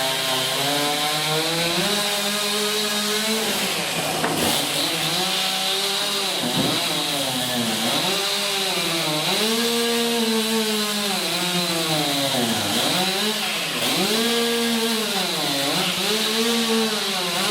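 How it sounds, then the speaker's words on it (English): A chainsaw runs continuously as a lumberjack saws into wood to carve a bear at a show, the engine loud and near, its pitch dipping and rising repeatedly as the blade bites and releases. "He's firing up his chainsaw."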